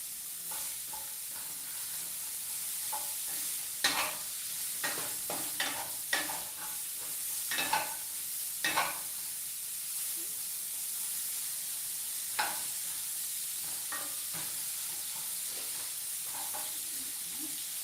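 Broccoli sizzles in a pan with salt and butter under a steady soft hiss, broken by scattered clicks and scrapes as it is stirred, with no talk.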